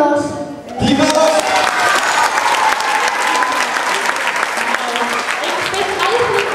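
A festival crowd gives loud, sustained applause for young singers from Landgraaf, breaking in after a brief spoken moment and continuing as dense, near clapping.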